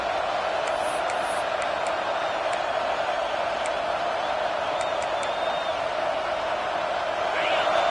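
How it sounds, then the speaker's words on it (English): A stadium crowd in the College Football 26 video game roars steadily on a fourth-down play, a dense sustained wash of cheering with a few whistles and shouts standing out. "Fourth down, and this crowd trying to help this defense rise to the occasion."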